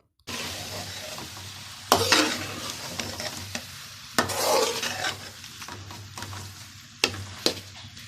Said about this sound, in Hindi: एक बार दोबारा से सब चीज़ों को मिक्स कर लेंगे।